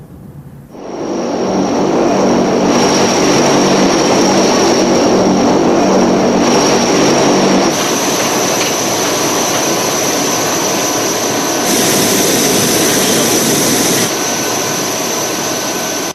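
Large American cargo aircraft engines give a loud, steady, continuous roar with no break, heard alone throughout.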